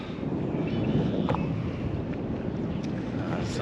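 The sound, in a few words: breeze blowing on a pier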